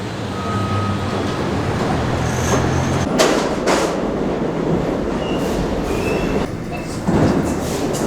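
A New York City subway train rides along with a loud, steady roar of wheels on rails, rattling clatter and bursts of screeching metal, heard from inside the car.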